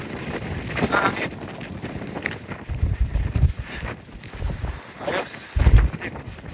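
Strong gusty wind buffets the microphone on the Fremantle mole by the sea, swelling in rough rumbling bursts with faint voices at times underneath.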